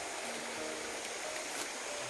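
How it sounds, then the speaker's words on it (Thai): A small stream flowing past a forest camp spot: a steady, faint hiss of running water with no speech. "ลำธารก็จะไหลตรงนี้นะครับผม"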